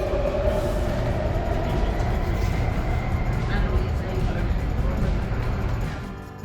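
A Sydney Metro train nears Chatswood station with a loud, steady rumble of wheels and motors. Faint squeals and clicks ride on top, and a voice speaks over the noise.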